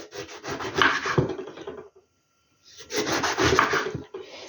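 Knife slicing eggplant into round pieces about a centimetre thick, two bursts of close scraping, rasping cuts separated by a short silent pause.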